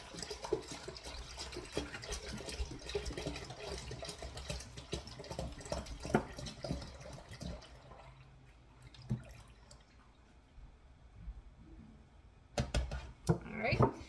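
A full gallon of milk glugs and splashes into an Instant Pot for homemade Greek yogurt, a steady close pour for about eight seconds, then a quieter tail with a few clinks and handling knocks.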